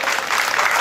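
Continuous crowd applause for a 1967 Volkswagen Beetle and its driver at a classic car gathering, a dense steady wash of many hands clapping throughout, fairly loud and close.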